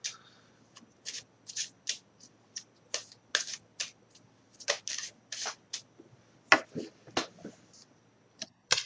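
Tarot cards are shuffled by hand in a quiet room, producing a long series of crisp riffling and flicking bursts at an uneven pace, close and fairly soft.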